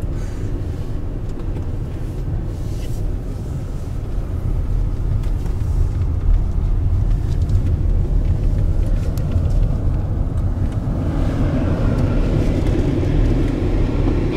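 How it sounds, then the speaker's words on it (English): Mercedes-Benz SUV driving from the JW Marriott toward the cable car on Phu Quoc, Vietnam, heard from inside as a steady, close, low engine and road rumble with some wind noise throughout, no talking. "JW Marriott's Mercedes SUV"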